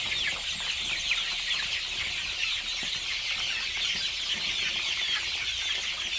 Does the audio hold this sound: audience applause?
no